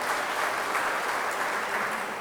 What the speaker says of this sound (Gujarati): બે મહેમાનોને જોરદાર તાળીથી આપણે વધાવી